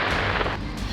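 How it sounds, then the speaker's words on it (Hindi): A heavy, roaring explosion rolls through, a tank blown up together with gathered Ukrainian weapons, the blast sustained and dense with deep rumble for about a second. "टैंक से यूक्रेनी हथियारों को इकट्ठा कर एक जोरदार धमाके को अंजाम दिया।"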